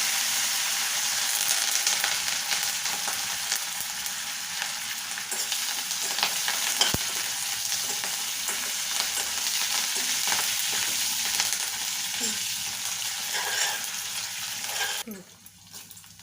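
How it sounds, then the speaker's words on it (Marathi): Curry leaves crackle and spit in hot oil in a pan for moringa leaf chutney, a steady loud sizzle lasting throughout with occasional sharp pops, fading at the end. "कढीपत्ता पण घालतो त्यात"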